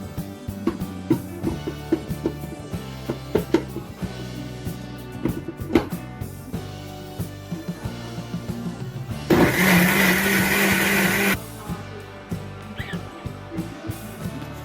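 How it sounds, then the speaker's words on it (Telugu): A mixer grinder blends ginger chutney with cooked tamarind pulp and cumin. After some kitchen clatter and knocks, the motor roars loudly for about two seconds, then stops. "మూత పెట్టుకొని మిక్సీ పట్టుకుందాము"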